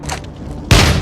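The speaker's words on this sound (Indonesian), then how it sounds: "Dia langsung menembak kaki Howard." A loud, close film gunshot fired at a man's leg lands as a single sharp boom after a moment of quieter rumbling, leaving a heavy, ringing tail.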